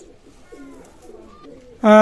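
Pakistani Teddy pigeons give soft, low, throaty coos close by in a quiet space. A sudden loud voice cuts in at the end.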